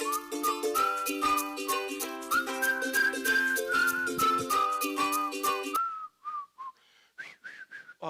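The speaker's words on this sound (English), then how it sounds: "I just like whistling with that." A person whistles a melodic tune along with a backing song of piano-like chords, the bright whistled notes continuing alone and more sparsely after the music stops.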